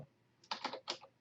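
A short, quiet burst of a few computer keyboard keystrokes clustered together while entering a Linux terminal command, heard close up with no speech.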